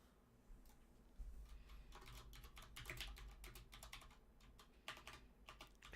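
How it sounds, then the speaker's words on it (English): Steady typing on a computer keyboard, a close run of quick, irregular key clicks that hold the whole stretch with a few louder taps, no voices. "Let's try typing something in there."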